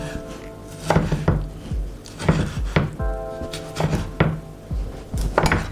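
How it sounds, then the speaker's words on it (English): A knife dices a tomato into small cubes on a cutting board: an irregular run of close, solid chopping thunks, with no speech. "For the tomato, we want to be cutting it into small cubes."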